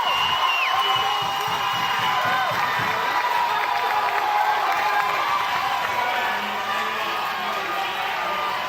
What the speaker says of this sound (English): We'll hear a big round of applause from the first base side.